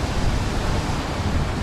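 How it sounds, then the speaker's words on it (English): Strong outdoor wind blows straight into the microphone, a dense, steady rushing roar with heavy low-end buffeting across the brief moment. "it is too fucking windy"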